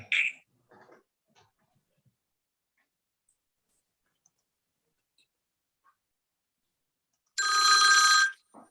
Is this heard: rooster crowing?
no